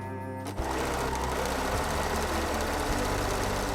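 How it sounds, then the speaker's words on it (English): A sewing machine runs steadily, its motor humming with a rapid mechanical stitching rhythm after a brief start, with two short pauses in speed. "First, I sew the seam on my sewing machine."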